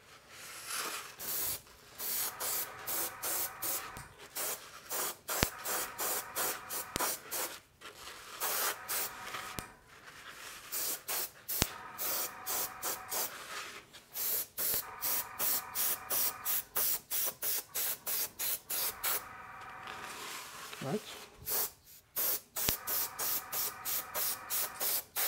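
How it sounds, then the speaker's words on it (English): A spray bottle mists water onto a sugar cake topper in a long series of quick, rhythmic hissing squirts, close and fairly loud, with brief pauses between bursts. "I can spray a bit of water on top"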